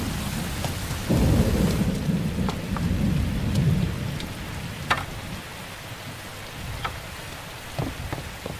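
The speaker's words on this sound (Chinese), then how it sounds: "下这么大雨" Heavy rain pours down steadily with a loud rumble of thunder early on, followed by scattered sharp drips and taps as the downpour continues, no one speaking.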